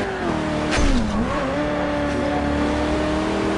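A car engine in the racing game Forza Horizon on Xbox One, set in Arizona, hums steadily and up close, with a brief revving swell early on and a tonal drone that dips and then levels out.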